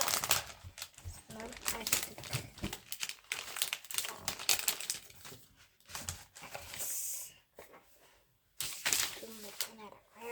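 Packaging around a new MacBook Pro crinkles and rustles in close, irregular bursts and rapid scratchy handling, with short pauses and a voice in between.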